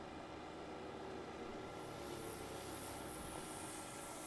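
A STOL airplane flies low in ground effect at a mountain competition in Pinedale, Wyoming, its engine a faint, steady distant drone.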